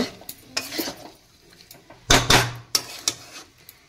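A metal utensil scrapes stuck food off a wok in several sharp, close strokes, with brief pauses between the louder scrapes and no talking.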